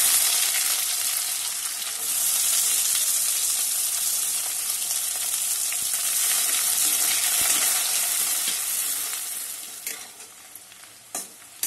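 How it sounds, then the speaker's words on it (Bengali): Onion sizzles loudly and continuously in hot oil, with a few light clicks of stirring near the end. "পেঁয়াজটা ভাজা হয়ে গেছে"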